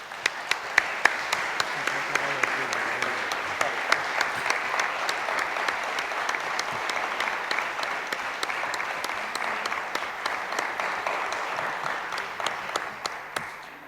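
A lecture audience gives sustained applause for about fourteen seconds, a full, even roar of many clapping hands with crisp individual claps audible throughout, loud and without speech.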